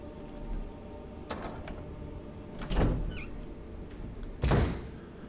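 In Resident Evil Remastered, a door swings open with a soft click, then two heavy, close thumps a couple of seconds apart over low, steady background ambience.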